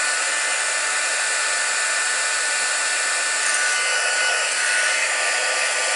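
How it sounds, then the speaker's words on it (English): A heat embossing tool blows hot air in a steady, loud, hissing whoosh with a faint whine, running unbroken throughout, with no voices. "I'll grab my heat tool"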